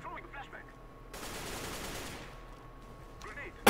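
Gunfire in Counter-Strike: Global Offensive, a dense burst of rapid automatic shots lasting a couple of seconds amid game noise, with faint voices before and after.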